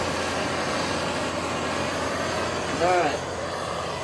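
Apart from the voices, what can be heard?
small blower running on waste oil forge burner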